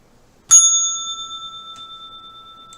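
A single bright bell is struck once and rings on with a long, slowly fading sustain, clear and alone against silence.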